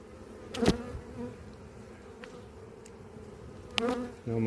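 Bees buzzing at their nest while feeding on honey or syrup, a close, continuous low hum with brief louder passes as individual insects fly near.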